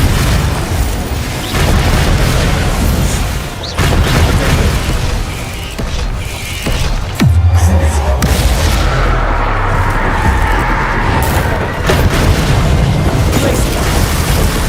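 A Confringo fire spell explodes in Hogwarts Legacy, giving heavy booming blasts with rumbling low-end tails, repeated across the stretch amid spoken spell shouts and game noise.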